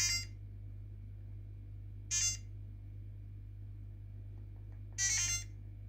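A Bluetooth GPS smart tag wired into a 12-volt vehicle setup gives three short electronic beep bursts, widely spaced over a few seconds, over a steady low electrical hum with no voice.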